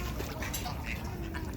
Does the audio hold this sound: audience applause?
no